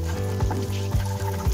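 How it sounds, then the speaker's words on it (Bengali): Cardamom pods and cloves fry in hot oil and butter for a restaurant-style paneer butter masala, giving a steady close sizzle with a low hum beneath and a few brief stirring bumps. "এলাচ আর লবঙ্গ একটু ভাজা যখন হয়ে যাবে"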